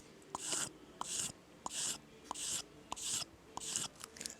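A knife blade, slightly curled from sharpening, is drawn over a strop in six quiet, evenly spaced swipes. Each stroke gives a soft rasping rub, and a light tap marks the start of each pass.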